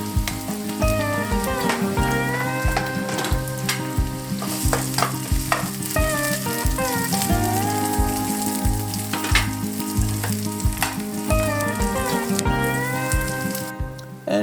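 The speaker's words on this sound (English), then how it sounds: "And add the zucchini to the pan." Zucchini sizzles in a frying pan, a continuous close crackle and hiss broken by repeated spatula scrapes and stirring clatter, with nobody talking over it.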